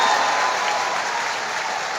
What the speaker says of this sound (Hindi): ताली बजाओ जोगेश्वर जी के लिए सभी लोग।